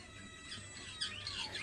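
Budgerigars kept in a breeding colony squawk and chirp faintly, short shrill calls rising near the end of a brief, quiet stretch.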